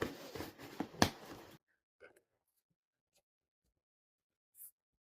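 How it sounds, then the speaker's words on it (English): Stiff tape being peeled off the paper wrapping of a mystery box from a spider shop: a loud, close ripping crackle for about a second and a half, then silence with a few faint brief rustles. "The paper's very, the tape's quite stiff on this one."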